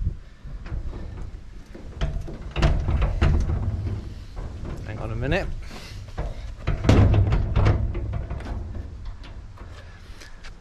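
Repeated bangs, knocks and metallic rattles as a garage door unopened for 30 years is kicked and shoved, with someone speaking briefly between the impacts.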